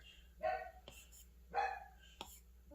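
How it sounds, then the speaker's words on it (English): A dog barks twice in separate bursts, muffled and somewhat distant, under quiet low household noise. "oh, you heard my dog?"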